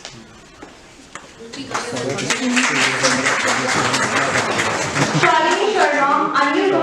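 Conference audience applauding a named speaker, a broad wash of many hands clapping that swells after a quiet start and carries on steadily, with voices heard over it.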